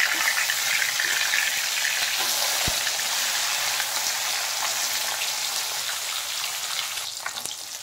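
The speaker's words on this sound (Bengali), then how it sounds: "মাছ ভাজা হয়ে গেছে, এখন মিশিয়ে নেব আমি" Fish frying in hot oil in a pan for a Bengali fish curry with ridge gourd and potato, a loud, dense, continuous close-up sizzle with a single knock, fading slightly toward the end.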